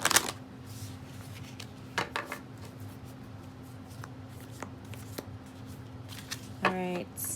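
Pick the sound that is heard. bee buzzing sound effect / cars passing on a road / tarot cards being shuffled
tarot cards being shuffled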